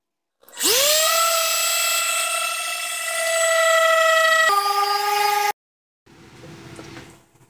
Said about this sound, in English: now I'm going with 80 grit on a random orbit sander